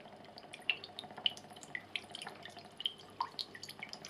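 Fresh coconut water poured from a coconut into a bowl or glass, heard as a run of soft close drips and trickles with a few brighter splashes, and no talking.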